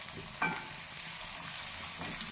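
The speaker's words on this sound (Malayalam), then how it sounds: "ഒരു ട്രിപ്പ് കൂടി നമ്മൾ ഉള്ളിട്ട് വയ്ക്കും. നല്ലോണം വഴറ്റുക." Sliced onions fry in hot oil for chicken biryani, a constant crackling sizzle with a sharper burst as they are stirred and shuffled in the pan.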